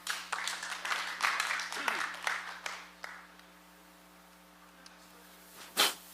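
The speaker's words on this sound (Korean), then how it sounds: "여러분 뜨거운 박수 부탁드립니다." Audience applause at a forum session on sustainable economy and rural communities, a burst of clapping for about three seconds that fades into a quiet room with steady mains hum, then a brief knock near the end.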